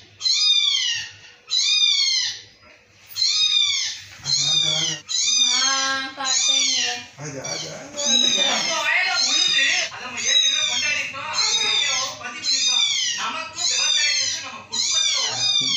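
A cat meows over and over, close and loud, with rising-falling cries in quick succession and little pause between them, set against steady background hum.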